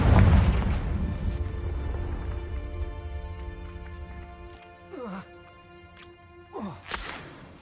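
Confringo, an explosive spell in Hogwarts Legacy, goes off with a loud booming blast at the start and then rumbles away, followed by softer magical whooshes and chimes over a ringing tonal backdrop.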